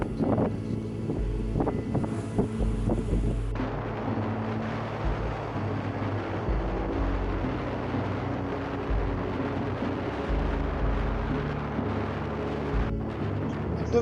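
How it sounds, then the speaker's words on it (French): Fierce wind during a mountain descent roars across the microphone in a steady, heavy rumble, with a few thumps and shifts early on, sustained and close without a break. "avec un vent de fou"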